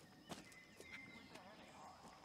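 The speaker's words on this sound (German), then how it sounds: "Hier ist unser Pferd." Horse in the Far Cry 6 video game, with a brief whinny and scattered hoof clops amid game ambience and background birds, while someone talks over it.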